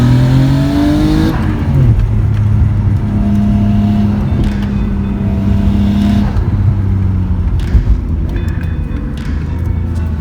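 A Nissan Skyline GTR with upgraded slotted brake rotors drives hard, its engine note rising and falling through gear changes, loud and close throughout.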